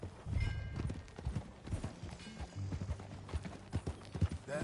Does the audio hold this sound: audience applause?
no